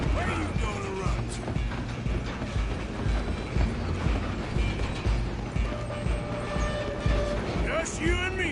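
A train rolls along in a PS4 video game with a steady rumble and rhythmic rail clatter, while voices talk over it throughout.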